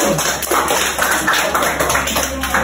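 A birthday party crowd in the rural Philippines claps together in a dense, steady burst of applause that carries on throughout, with faint background noise underneath.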